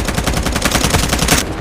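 Rapid automatic gunfire in a video game firefight involving a truck, a tank and a motorcycle, a dense burst of shots lasting over a second, loud and close, then cutting off abruptly.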